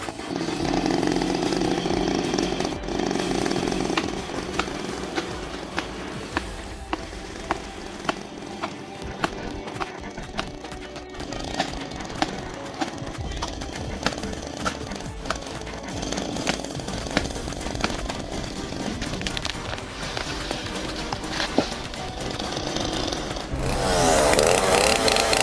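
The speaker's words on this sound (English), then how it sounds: "The chainsaw, a sharp envoy carved through the tension, each cut echoing with purpose and precision." A chainsaw cuts an old fallen tree stump, a loud continuous buzzing drone with rattling bursts and brief clicks throughout, rising near the end.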